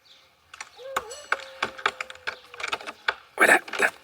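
Someone picks the lock of a front door: a quiet run of small metallic clicks, taps and scrapes in uneven bursts, growing busier and louder toward the end.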